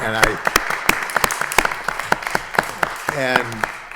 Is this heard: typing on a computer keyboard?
no